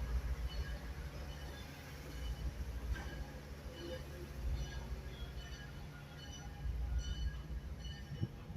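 A passenger train pulls away from East Chattanooga, a low steady rumble of rolling wheels and cars with faint metallic squeaks and clanks, moderately distant and continuous.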